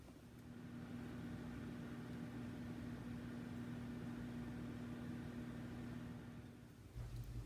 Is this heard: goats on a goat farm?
no